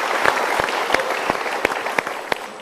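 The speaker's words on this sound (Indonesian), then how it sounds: "Kita berikan tepuk tangan." Studio audience applause, a steady wash of clapping with a few sharper individual claps standing out, sustained across the whole stretch.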